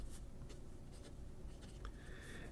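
A Scrivener pocket fountain pen with a medium nib writing on paper, giving a faint, close scratching and soft strokes with a few brief squeaks, and no voice.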